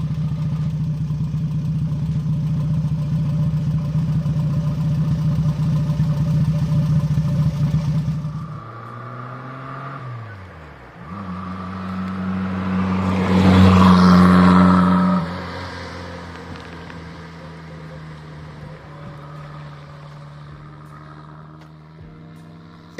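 A Renault Dauphine's rear-mounted engine with a very short exhaust idles loudly and steadily close by, then revs up, peaks, and settles back to a lower, rougher idle.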